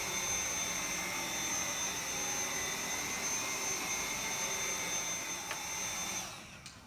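A Dyson V7 Absolute cordless vacuum runs on its low setting across carpet, giving a steady, close whine with a broad airy rush that holds even, then cuts off near the end.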